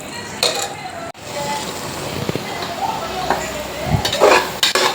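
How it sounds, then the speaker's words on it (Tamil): Tomatoes sautéing with salt in a pan for chicken biryani, a steady close sizzle with scattered stirring scrapes and clinks of a spoon against the pan. "உப்பு போட்டு லைட்டாக வதக்கி விட்டுக்கலாம்."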